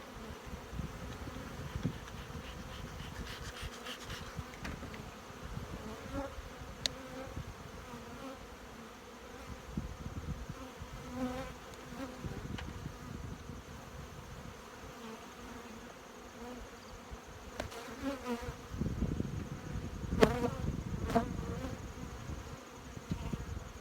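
Honeybees buzz steadily from an opened beehive, a close, continuous drone with individual bees passing near at times, and faint handling noises mixed in.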